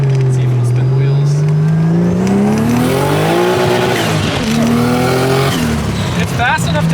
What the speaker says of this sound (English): Let's see if it'll spin the wheels.